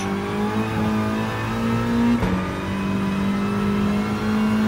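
Volkswagen Scirocco race car engine in Gran Turismo Sport, a loud, close, steady mid-pitched engine drone with strong harmonic tones, holding near-constant revs with a brief dip in the middle.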